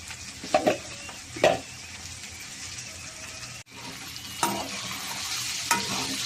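Dried prawn and okra curry with chili powder being stirred in a pot, a few distinct scraping strokes over a low simmering sizzle, with a sharp clatter midway and more stirring after.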